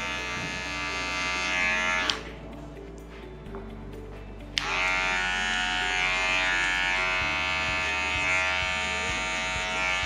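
Electric hair clippers buzz continuously and close while cutting a fade haircut, a steady motor hum with a brief softer dip in the middle as the blade lifts from the hair.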